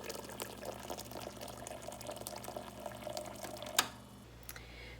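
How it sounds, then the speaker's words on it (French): Hot water poured over dandelion and spices, a soft, continuous liquid trickle at low volume with faint clinks, ending in a brief sharp tap before quiet. "La seule chose qui reste à faire, c'est d'y mettre de l'eau chaude."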